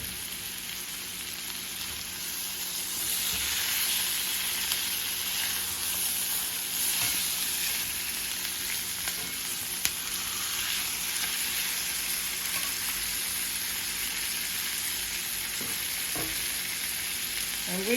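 Pork chops fry in a pan with a steady, loud, dense sizzle that runs without a break. Faint scraping and shifting sounds come as the chops are turned, up close, with no voices.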